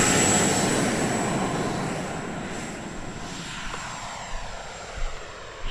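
An FMS F-86 model jet on its maiden flight gives a steady, loud engine rush that slowly fades as it climbs away, alone without talk.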